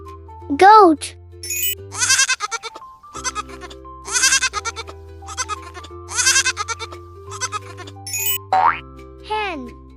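An animated cartoon goat bleats repeatedly in loud, quavering calls over a bouncy background tune, framed by boing and jingle sound effects at the start and end.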